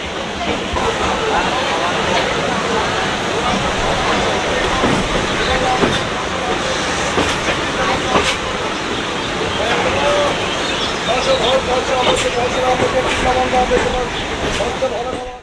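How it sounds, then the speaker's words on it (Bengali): A constant loud rumbling roar of a moving passenger train from Sealdah to Lakshmikantapur, with rattling and hiss throughout and voices faintly mixed in. "শিয়ালদা থেকে ট্রেন ছেড়ে দিল সাতটা চোদ্দোর সময়"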